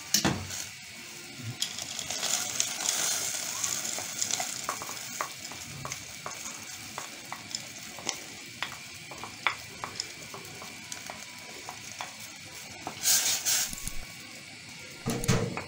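Crushed fava beans go into a hot pan and get stirred, a close continuous sizzle with scraping and clinking stirring strokes throughout, a louder burst near the end.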